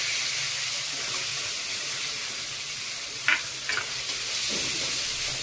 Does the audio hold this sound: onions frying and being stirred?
yes